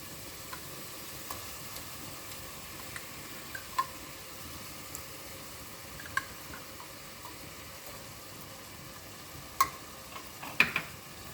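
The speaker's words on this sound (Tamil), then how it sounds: "தக்காளி வதங்கட்டும்." Tomatoes sauté in a pan for tomato rice, giving a low, even sizzle throughout with occasional faint ticks and scrapes from stirring.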